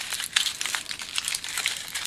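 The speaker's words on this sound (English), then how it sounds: "Tear off a couple of pieces of foil. Fold them up. Just crumple them very loosely." Aluminum foil is torn and loosely crumpled by hand, giving a continuous close, crisp crinkling with irregular sharp crackles and no talking.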